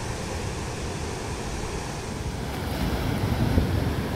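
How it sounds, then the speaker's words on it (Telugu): Ocean waves wash onto a beach at sunset in a continuous low roar, with wind buffeting the microphone and the surf swelling slightly louder toward the end; no one speaks. "అలలు ఘోరంగా వస్తున్నాయి ఇక్కడ కూడా"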